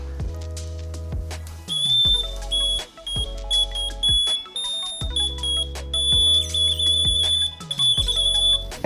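Electronic tones from a pen-drawn conductive circuit built on a simple timer chip, played like a small piano: sustained pitched tones with a high whistling overtone, shifting pitch in steps and cutting in and out in short segments, loud and alone.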